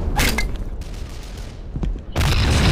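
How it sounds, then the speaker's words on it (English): A German rocket barrage in a World War II strategy game set at Küstrin: dense, continuous rumbling fire and booms that ease briefly, then surge back loud and heavy. "Huge German rocket barrage"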